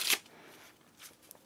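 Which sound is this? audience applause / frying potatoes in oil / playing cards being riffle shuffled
playing cards being riffle shuffled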